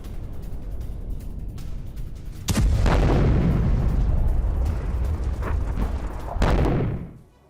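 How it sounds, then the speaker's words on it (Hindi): Israeli airstrikes in Lebanon produce a loud rumbling explosion that hits suddenly and roars on, followed by a second heavy blast near the end before the sound cuts off. "धमाकों से दहला पूरा हिजबुल्लाह का गढ़"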